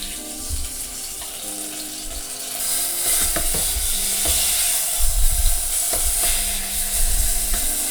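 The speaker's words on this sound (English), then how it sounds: "what I'm going to do is make sure to sear the sides" Steak searing in an electric hot pot gives a steady, bright sizzle that runs the whole time. Soft knocks and scrapes from tongs turning the meat sound over it, and nobody speaks.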